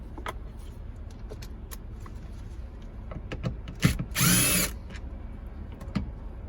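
A power drill backs out T15 Torx screws near a sun visor anchor inside a GM truck or SUV cab, one short whirring burst after a sharp click, with quiet handling noises around it.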